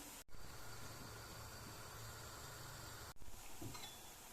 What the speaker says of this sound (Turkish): Şöyle çevire çevire her yerini güzel eşit bir şekilde kızardığından emin olalım